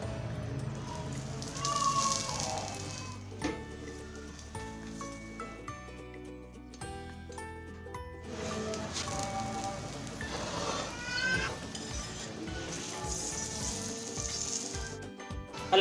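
Aloo paratha fries in cooking oil on a hot griddle, giving a steady, moderately loud sizzle and crackle throughout, with other tonal background sound mixed in.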